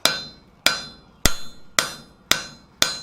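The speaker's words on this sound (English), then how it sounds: "So I'm holding the hammer at a bit of a diagonal." A hammer strikes metal on a chain maker's stake anvil in six crisp, ringing blows at a steady, even rhythm, each close and loud with a short metallic decay.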